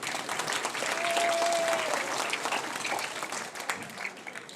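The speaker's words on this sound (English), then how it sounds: "Give them another round of applause," Sustained audience applause for performers at the San Francisco Chinatown Lions Club Miss Teen Scholarship gala, a full, dense roar of clapping that holds strong before tapering slightly toward the end, with a faint whistle rising briefly above it.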